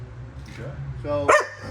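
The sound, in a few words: dog barking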